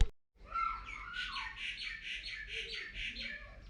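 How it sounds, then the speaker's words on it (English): A bird squawks repeatedly in a rapid, harsh series of calls, fairly close, over a low background rumble. "Just wait for that bird to finish."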